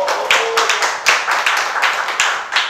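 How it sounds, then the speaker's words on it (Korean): Small audience clapping for a composer at a city choir lecture event, a burst of distinct hand claps with a brief tone near the start, moderately close and loud. "박수 한번 쳐주세요."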